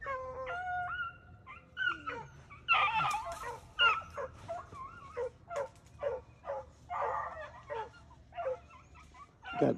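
A sled dog pack in the cold outdoors yips, whines and barks excitedly in a rapid, overlapping series of calls at moderate distance.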